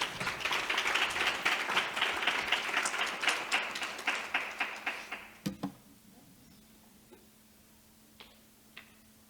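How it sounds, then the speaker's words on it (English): Audience applause at a history center event, dense clapping that fades into slower, separate claps and dies out around the middle, followed by a quiet room with a few isolated claps. "Let's give Brenda Droke a warm applause"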